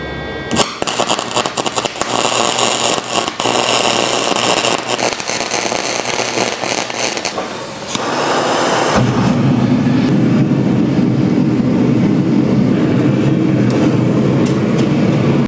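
A belt grinder grinds the faces of Damascus san-mai steel clean in a knife shop, giving a harsh loud grinding rasp with choppy contact, a brief drop near eight seconds, then a steady louder whir.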